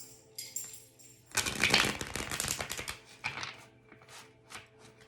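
A deck of love-message oracle cards is shuffled close up, with a loud riffling flutter in the middle and a few softer card taps after it.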